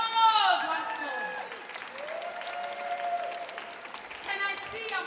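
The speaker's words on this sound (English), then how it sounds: "Give yourself a warm hand of applause once more." Applause from an audience at a Language Awareness Week official opening, moderate clapping heard under a voice speaking and singing tones over it.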